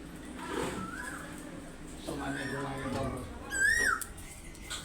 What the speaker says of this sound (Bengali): এই দেখো আমাদের বাড়ির সামনে কেমন কোয়েল ডাকছে